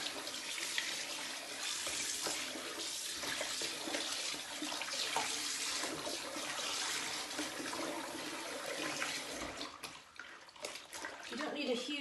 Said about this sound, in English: So I've got cool water running again, and just swish around the sweater.